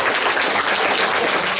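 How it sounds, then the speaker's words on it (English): A school audience gives a round of applause for a visiting rapper, dense continuous clapping from many hands throughout. "I just want to give you a round of applause"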